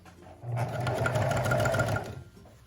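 A sewing machine runs in one steady close burst of about a second and a half, stitching a seam on a mini dress bodice, then stops.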